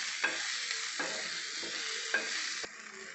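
Tomato and onion sauté in a pan for coriander thuvaiyal, a steady, moderately quiet sizzle with a few sharp spatula taps at intervals.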